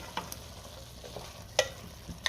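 Khadra chicken is stirred in a pan, giving a soft sizzle under a few sharp spatula scrapes against the metal.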